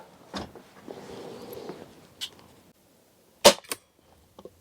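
Pellets from a Black Bunker BM8 5.5 mm air rifle strike a metal target plate, giving a few sharp, separate cracks and clinks amid quiet handling sounds, heard close and fairly faint.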